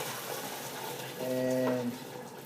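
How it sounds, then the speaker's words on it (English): Home-brewed golden ale wort pours through a strainer into a fermenter holding malt extract, a steady rushing splash of liquid with a brief tonal hum rising partway through. "We'll tip that straight into the fermenter, which has got our extract in the bottom of it. Pour that through the strainer there"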